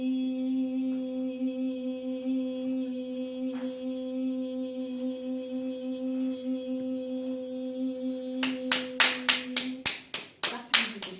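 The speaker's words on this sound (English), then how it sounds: "Clapping is a dispersal of energy." Hand clapping in a quiet room with a steady low hum, a burst of about ten sharp, close claps near the end, strengthening into a quick rhythm.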